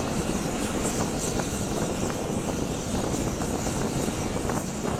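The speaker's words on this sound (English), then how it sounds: "This plane looks like it disappears when taking off into the fog." A plane taking off into fog produces a steady, dense engine roar, continuous and fairly loud with no speech over it.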